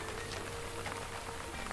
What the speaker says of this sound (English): My brain is starting to shut off from the rain noise.